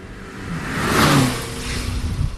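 A 2025 BMW Alpina XB7 SUV accelerates, its engine rising to a rushing swell around the middle and then easing back to a steady hum, heard close with no talk.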